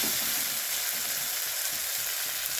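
Chopped banana flower (mocha) being sautéed in a pan, giving a dense, steady hiss of sizzling oil up close, with faint stirring beneath.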